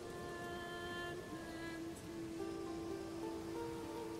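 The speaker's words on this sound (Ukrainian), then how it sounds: "Ти диви, який дощ пішов." Rain in the video game Manor Lords falls as a steady, soft hiss that stays even throughout, with faint tonal music lines running underneath and no talking.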